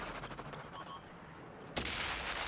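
A tank gun fires once in the World of Tanks console game, Xbox One edition, a sudden loud broadband blast late in the clip over a dense bed of rumbling game noise and distant battle sounds.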